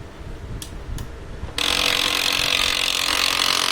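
HP LaserJet 1020 printer with a noise fault, first a couple of faint clicks, then it switches on and a steady, loud mechanical whir and grinding runs without pause.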